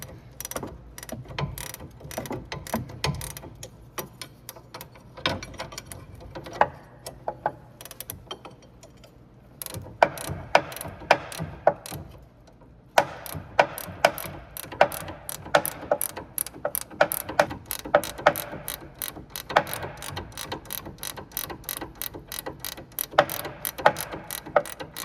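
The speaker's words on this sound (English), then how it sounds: "now I'm gonna use a wrench on the bottom one" Ratcheting wrench loosening the lower nut of a front sway bar link on a 2011-2017 Honda Odyssey, a rapid run of close, loud ratchet clicks in bursts with brief pauses, no talking.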